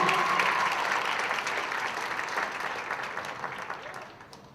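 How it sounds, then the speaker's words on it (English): An audience at the Mr. Vineland 2022 pageant breaks into full, close applause for the contestants. The clapping starts strong and gradually fades over a few seconds. "please let's give all of our contestants a round of applause for their wonderful job this evening"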